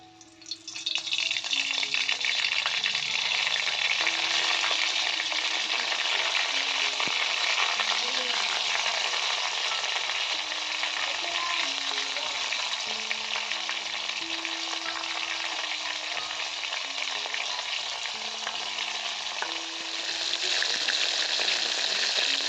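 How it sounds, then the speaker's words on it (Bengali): Flour-coated whole lotte fish fry in hot oil over high heat. A loud, dense, steady sizzle carries on without a break, with a low tonal hum underneath. "এবার আমি গরম তেলে এগুলো ফ্রাই করে নেব"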